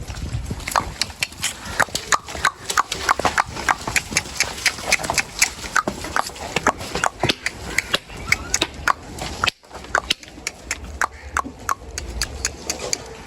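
Horse hooves clip-clopping in a quick, steady rhythm, with one brief pause before the rhythm resumes.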